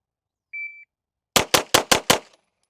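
Five sharp CZ Shadow 2 pistol shots crack out in quick, even succession on a shooting range, each loud and close, preceded by a brief electronic shot-timer beep and otherwise quiet.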